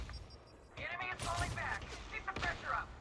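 Pistol fire in the sci-fi shooter Elite Dangerous Odyssey, a few sharp shots and energy-like bursts at moderate level, mixed with other game sounds.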